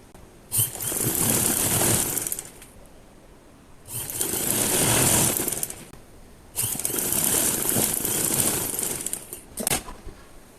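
A sewing machine stitches sensitive fabric for the side seam of a kameez in three steady whirring runs of about two to three seconds each, separated by short pauses, close and alone.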